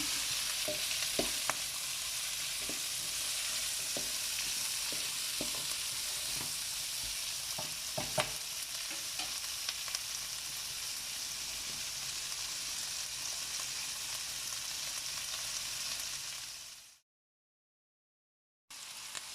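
Sliced peppers and onion sizzle in a hot pan, a loud, dense, steady hiss with scattered stirring clicks close up, cutting to brief silence near the end.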